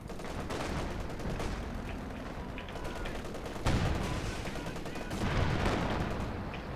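Artillery shells land during a World War II tank battle in a video game, a series of loud, heavy booms and crackling gunfire over a dense rumbling battle din, with stronger impacts standing out near the middle and end.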